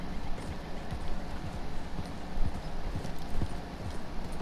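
A horse gallops in the video game Red Dead Redemption 2, its hooves beating a steady, rapid rhythmic clip-clop that stays close and fairly loud throughout.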